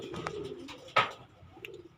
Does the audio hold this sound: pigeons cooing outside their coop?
yes